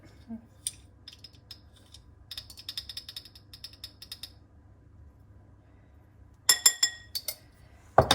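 Pepper and then salt are ground from a mill over a tray of oven-baked chops with potatoes and mushrooms. The mill gives off short bursts of ratcheting clicks, close and crisp, with quiet gaps between them.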